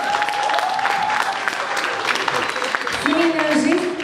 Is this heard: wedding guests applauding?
yes